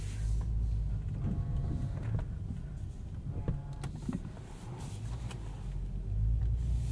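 A 2022 Mercedes-Benz S500 4MATIC driven on the road gives a low, quiet cabin rumble of tyre and road noise, steady throughout with soft bumps and no talking.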